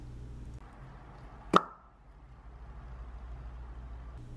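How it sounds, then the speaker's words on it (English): A single sharp pop as a resin piece releases from a silicone mold stands out against quiet background hum, a brief crisp release, close by, followed by near silence. "of the mold pop for your enjoyment"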